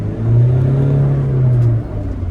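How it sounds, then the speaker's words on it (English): A Mahindra Thar SUV engine revs up close in first gear, holding a loud droning pitch for over a second before easing off. "revving the motor"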